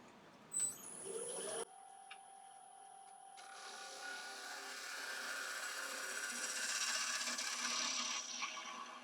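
A wood lathe turns a live-edge wooden piece while the bottom is hollowed out, giving a soft, steady whirring hiss with faint scraping that runs continuously after a brief clatter at the start.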